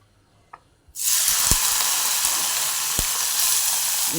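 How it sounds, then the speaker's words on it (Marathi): Bombay duck (bombil) fish slides into hot oil after a couple of faint clicks, and a loud, even sizzle bursts up and keeps hissing steadily close by, broken by a few soft taps. "आता आपण तेल तापाय ठेवलं याच्यामध्ये ना आपण बोंबील थोडेसे फ्राय करून घेणार"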